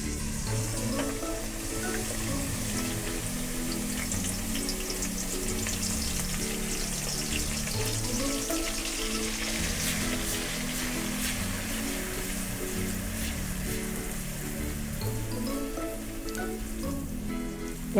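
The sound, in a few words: chopped onions frying in hot oil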